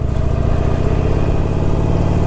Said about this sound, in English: that stock exhaust has a surprisingly pleasing note